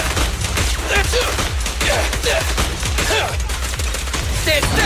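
Gunfire from the game Zenless Zone Zero: a dense, steady rattle of rapid shots with sharp impacts, mixed with in-game effects and character voice lines throughout.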